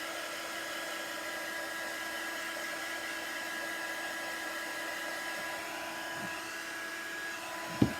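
A hair dryer blows on wet gold paint on a Halloween sign, a steady close whirring drone that holds evenly throughout, with a small knock at the end.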